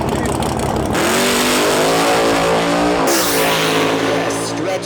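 Drag race car at an EZ Street, Super Street or Street 275 class event launches hard and accelerates, its engine note climbing steadily, loud and close, with an announcer talking over it.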